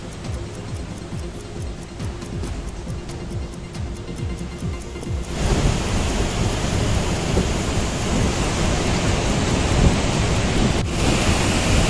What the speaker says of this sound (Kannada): ಕೊಡಗು ಜಿಲ್ಲೆಯಲ್ಲಿ ಮಳೆ ಎಡಬಿಡದೆ ಸುರಿತಾ ಇದೆ